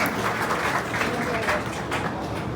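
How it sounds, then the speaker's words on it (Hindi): Applause from an audience at a political felicitation event in Rajasthan, steady broadband clapping sustained throughout at moderate level, with a crowd murmur and some speech mixed in. "आपका भी जोरदार ताली से स्वागत।"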